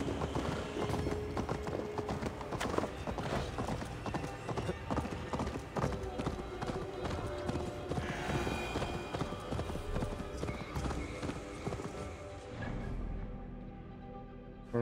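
Rapid, continuous hoofbeats of a galloping horse in Assassin's Creed Valhalla, a busy clip-clop rhythm over a mix of other effects, fading near the end.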